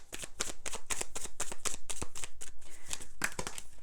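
Astrology cards shuffled for a tarot reading make a rapid, rhythmic riffle of crisp card flicks, close and loud, running steadily throughout.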